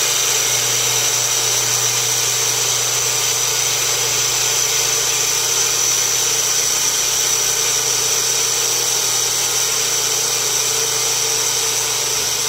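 Steady high-pitched whirring drone of an electric blender motor grinding whole oats into powder, continuous and even throughout, close and loud with no voices.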